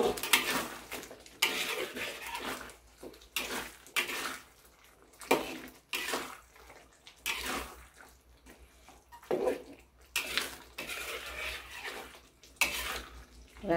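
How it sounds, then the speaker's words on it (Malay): Cooking of ayam masak merah, with fried chicken pieces tipped into a pan of chilli sauce and stirred, giving repeated scraping and clattering strokes alongside wet sizzling, close up and moderately loud, with no voices. "Setelah itu kita masukkan ayam yang kita dah goreng tadi."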